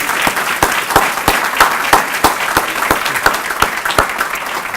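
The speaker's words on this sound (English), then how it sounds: "Would you join me in a nice round of applause for our new prosecutor?" A crowd at the grand opening of the Union County Family Justice Center in Linden applauds a newly sworn-in prosecutor, with steady group clapping and a few sharp, near claps cutting through at a regular beat.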